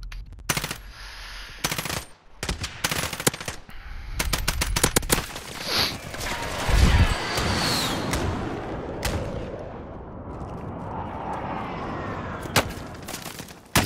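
Gunfire in a battle royale video game, a shotgun among the weapons, cracks out in dense, irregular bursts of sharp shots that mix with rumbling game noise over a long stretch, some blasts close and loud.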